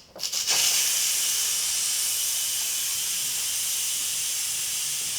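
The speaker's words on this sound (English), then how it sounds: "So now we're gonna release the rest of the pressure." An Instant Pot vents steam in a loud, steady hiss during a manual pressure release, starting with a few clicks and rising sharply to a continuous close rush that holds until the end.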